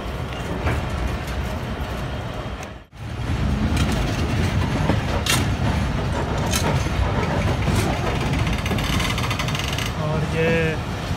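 The Jaffar Express at Rawalpindi railway station gives a steady, loud rattling and clanking of carriages and engine, briefly dropping out once, with metallic clinks and faint voices in the background.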